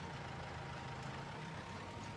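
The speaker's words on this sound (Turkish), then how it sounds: "Traktörü çalıştı." A farm tractor engine in the Farming Simulator video game runs in a steady, low rumbling idle with a faint hum, continuous and fairly quiet throughout, with no voices.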